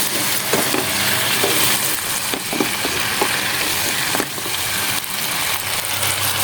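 Mixed vegetables for a Chinese-style dish frying in a pan, a steady loud hiss of oil with occasional stirring scrapes and clacks, close up and without talk.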